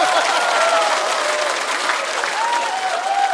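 Steady applause from a live comedy-show audience during a music stand-up set, dense and sustained throughout with a little background voice mixed in.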